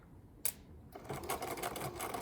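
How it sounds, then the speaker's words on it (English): A sewing machine runs a regular straight seam on fabric, starting with a sharp click and then a close, steady rapid stitching whir. "I'm just gonna sew regular seam on that 1/2 inch mark."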